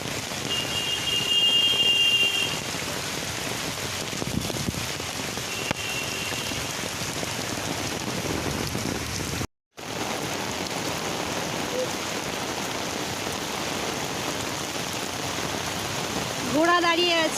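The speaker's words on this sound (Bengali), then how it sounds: "বৃষ্টিতে খেলা ক্যান্সেল হয়ে গেল" Steady rain falls at Eden Gardens stadium in Kolkata during a rained-off football match, a continuous broadband hiss with a brief dropout partway through, faint voices and scattered sounds beneath.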